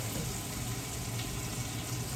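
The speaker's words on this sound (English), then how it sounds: "You can hear that sizzle." Stock and tomato paste sizzle in a hot pot of black bean tortilla soup with beans, tomatoes and spices, a steady close hiss and bubbling crackle that holds evenly throughout with no talking.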